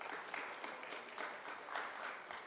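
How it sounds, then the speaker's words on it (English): Audience applause at a business event welcoming the MTN telecom company on stage, a faint, steady wash of clapping from a distant crowd with slight swells. "Please put your hands together for MTN."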